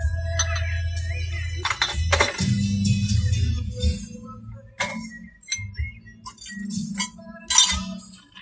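Glass clinks and knocks as it is picked up inside a leaning milk delivery van, with scattered bright taps and chinks over a low engine-like hum.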